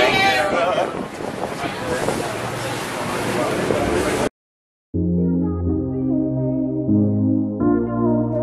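Boat running across a bumpy channel between Maldives atolls, loud rushing wind and water noise buffeting the microphone, then a brief gap before music-like tonal sound takes over.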